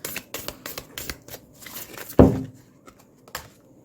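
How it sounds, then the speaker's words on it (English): Tarot cards shuffled by hand in a quick, light flurry of riffling clicks and flicks, with one louder slap of the deck partway through, then a few soft taps trailing off. "I'm just going to shuffle again."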